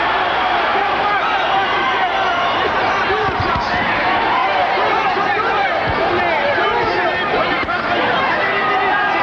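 The crowd at a Larry Holmes vs Lucien Rodriguez boxing bout roars continuously, a dense, loud wall of shouting and cheering babble with scattered thuds, sustained throughout.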